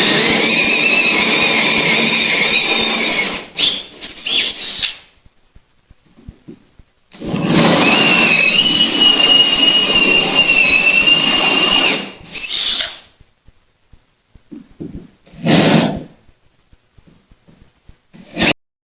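Power drill relieving screw holes in boat hatch lids, running in long whining bursts separated by pauses, with a few shorter spurts near the end, loud and close with no talking.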